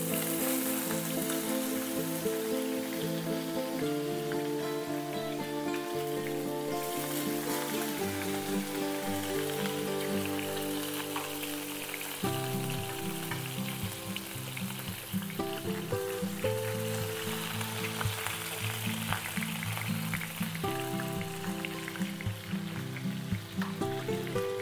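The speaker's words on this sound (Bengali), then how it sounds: "মাছটা যখন ভাজা ভাজা হচ্ছে" Dried fish (shutki) frying in a pan for a mashed shutki dish, steady dense sizzling crackle running throughout with soft music playing underneath.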